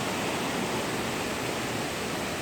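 Steady rain falls on a mountain trail leading up to a waterfall at a prayer site on Jirisan, a dense, unbroken hiss that fills the whole clip with no voices.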